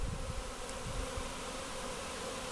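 A swarm of honeybees buzzes steadily and close, a dense continuous hum with no voices over it.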